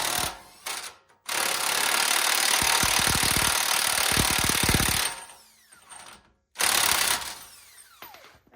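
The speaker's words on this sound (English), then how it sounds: "now we're going to use this 36 millimeter socket. Get this axle nut off." A 36 mm socket on a ratchet or impact tool loosens the axle nut on a Lexus GX460, giving loud sustained whirring bursts with rapid clicking, a pause, then another shorter burst close up.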